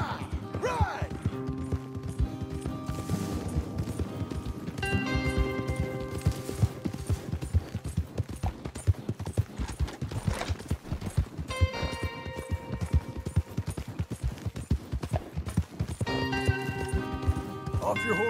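Horses gallop in Red Dead Redemption 2, a steady rapid drumming of hooves running through the whole stretch, close and fairly loud, mixed with tonal game music and occasional voices.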